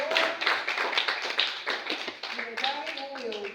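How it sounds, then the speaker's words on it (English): Audience applause at a university human rights event, a burst of scattered clapping from a crowd, moderately loud, mixed with voices talking and calling out. "Round of applause."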